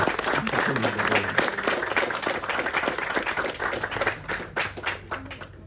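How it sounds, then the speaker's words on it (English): Audience applause fills a talk on the history of Tofurky, a dense steady clapping from a room of people that runs throughout and thins slightly toward the end, with a faint voice underneath. "give them a round of applause for everything they've done and continue to do"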